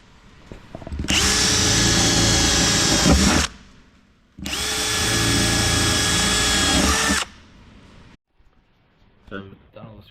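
Power drill driving screws through the aluminium floor of a small boat, two long, loud, steady high-pitched whining runs of roughly two to three seconds each, close by, separated by a short pause and followed by quieter clatter.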